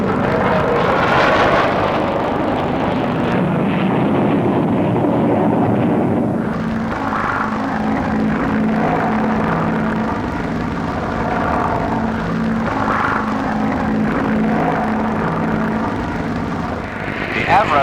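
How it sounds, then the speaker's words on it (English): Boulton Paul 111 delta-wing experimental jet aircraft at the Farnborough air show in the 1950s, a steady loud engine roar that drifts and swells throughout, with a narrator speaking over it. "Great interest centres, of course, on the Delta Wing experimental types, of which several were on show, including the Bolton Paul 111, a threatening-looking machine"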